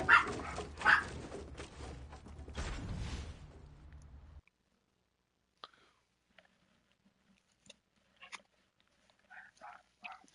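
Dogs barking in the Fortnite video game, a few loud yelps and barks at the start followed by scattered faint yips and clicks in near silence.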